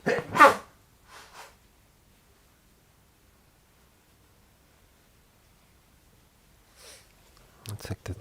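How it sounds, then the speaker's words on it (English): A single sharp sneeze bursts out near the start, followed by a faint breathy aftersound and long quiet before brief noise at the end. "It's like the third time I've sneezed today."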